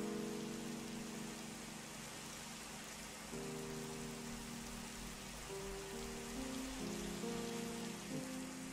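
Steady rain in Minecraft pours continuously at an even, moderate level, with faint low tones shifting underneath and no voices.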